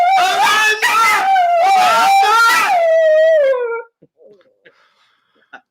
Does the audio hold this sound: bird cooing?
no